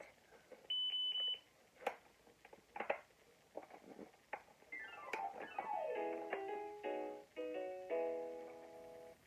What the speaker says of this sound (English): So this beep is called the factory test mode